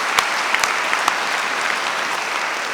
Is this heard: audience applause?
yes